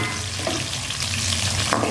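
Onion, cumin seeds and mustard seeds frying and being stirred in hot oil for a brinjal curry, a steady close sizzle with soft scraping stir strokes and no talk.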